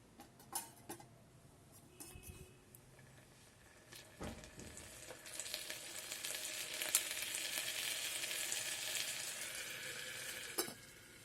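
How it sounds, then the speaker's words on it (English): Vegetables with turmeric, garam masala and salt sizzle in an electric kettle, the frying hiss building steadily louder with scattered clicks and stirring knocks from a utensil, close by and alone. "You can now again fry for 2 to 3 minutes, okay, with the masalas."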